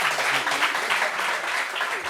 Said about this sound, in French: Applaudissements un peu pour lui